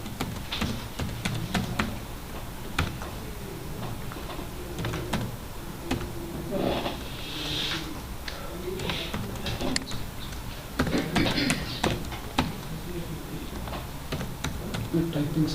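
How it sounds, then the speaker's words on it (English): Fingers type on a computer keyboard during a work software session, a steady run of quick, close clicks with bursts of faster keystrokes and voices murmuring faintly underneath. "You're typing something."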